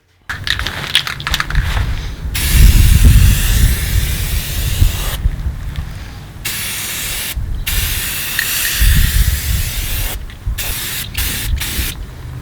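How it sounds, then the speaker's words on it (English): Metal parts being sandblasted in a sandblasting cabinet, long close bursts of harsh hissing blast with gritty low rumble, broken by short pauses between passes. "Let's just sandblast these things clean and then give them a new coat of paint."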